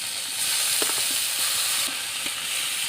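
Chopped tomato goes into garlic frying in a pan, bringing a loud, steady sizzle with a few soft stirring clicks, close and with no voices.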